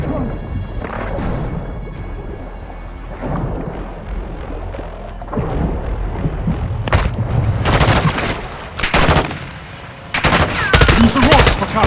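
Sharp bursts of gunfire in a firefight from the video game Modern Warfare, loud cracks and rapid volleys crowding the second half after quieter rumbling and movement at the start.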